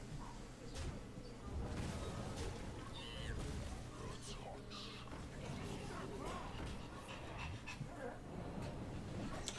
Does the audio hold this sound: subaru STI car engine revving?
no